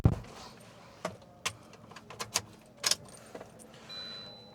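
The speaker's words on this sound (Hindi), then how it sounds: "मैं चाबी लगा लेता हूँ अंदर बैठ के।" Inside a Maruti Suzuki WagonR, a key is inserted into the ignition: keys jangle in a series of sharp, close metallic clicks and rattles spread over a few seconds, with quiet cabin background between them.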